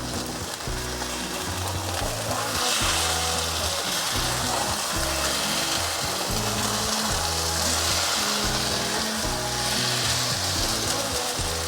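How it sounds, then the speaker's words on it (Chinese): Tofu pan-frying in a pan as it is flipped for a vegan dish, giving a steady, close sizzle that runs throughout, with low tonal sounds beneath it. "再继续翻面煎一下。"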